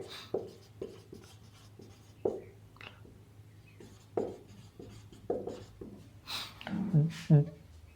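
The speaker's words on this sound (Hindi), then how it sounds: "मैं यहां लिख रहा हूं, 1 मिनट रुको।" Handwriting strokes from pen on paper during a maths lesson, short scratchy bursts spaced irregularly and close, with someone speaking quietly between and over them.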